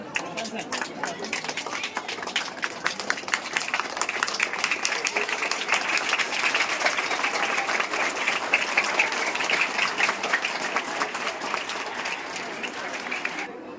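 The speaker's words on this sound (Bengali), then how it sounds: "হাততালি দাও সবাই, হাততালি দাও।" Children applaud together at a school wall magazine inauguration, a dense, steady clapping that builds slightly in the middle and holds through to the end.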